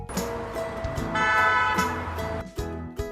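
Horn of an auto rickshaw toots in a short, bright burst, steady and near, with a quick final honk at the end.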